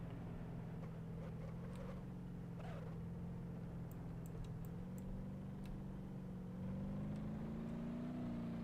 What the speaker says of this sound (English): we're getting gas to the engine. I mean, it's speeding up